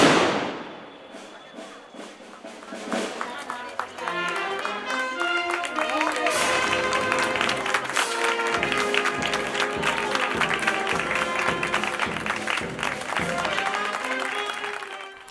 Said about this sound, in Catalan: La traca, l'eixida amb aplaudiments de la fallera major i la música de la banda.